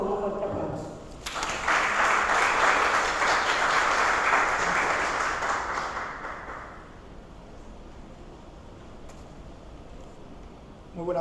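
An audience at a scientific communication colloquium gives the panelists a burst of applause. The clapping swells quickly, holds for several seconds, then fades to quiet murmuring, with a voice briefly audible at the start.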